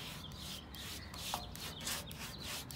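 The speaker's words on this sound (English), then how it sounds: "just using the brush to go back and smooth it all out" A brush strokes over wood-grain paint on a 1949–1950 Plymouth dashboard, giving a soft, steady rubbing rasp in repeated passes, close and fairly quiet, with no talking.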